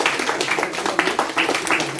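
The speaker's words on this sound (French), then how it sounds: "Je voudrais terminer en demandant peut-être d'applaudir les collègues du mémorial du Mont Valérien" An audience applauds staff of the Mont-Valérien memorial at a commemoration ceremony, a dense, steady clapping held close for a couple of seconds with no voices over it.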